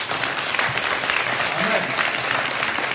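A church congregation applauds at a French-language worship service, a dense steady wash of clapping that fills the room for the whole stretch without letup.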